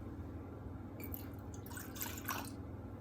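Liquid, 50 ml of it, is measured and poured while making a simple fondant cake in a home kitchen, giving soft dripping and trickling sounds in short bursts over a steady low background hum, with no talking.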